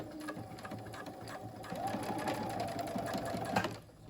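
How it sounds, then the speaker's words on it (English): A sewing machine stitches fabric for a face mask, a steady rapid mechanical whir running nearly throughout before stopping, with faint speech underneath. "keep sewing all the way across this side"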